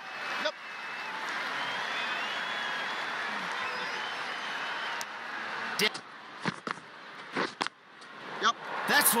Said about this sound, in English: What the crowd have come to see.